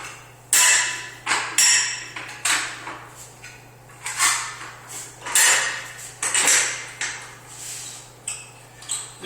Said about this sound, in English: I'll be able to throw the 9-part head assembly on the machine.